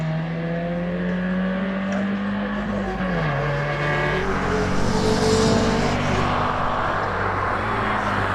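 A race car launching off the line at a hillclimb, its engine revving high and climbing through gear changes as it pulls away, loud and sustained with a slight dip mid-run.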